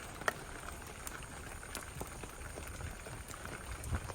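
A fish curry boils gently in a covered pot, making a faint, steady bubbling with a few small ticks and pops; no one speaks.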